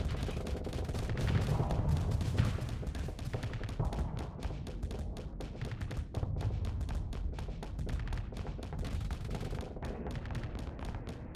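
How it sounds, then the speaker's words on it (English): A Mark 9 autocannon in a Starsector space battle pounds away at enemy shields in a long, fast run of evenly spaced heavy thumps, steady and close with slight dips in volume. "I love how effective that Mark 9 autocannon is against the shields though"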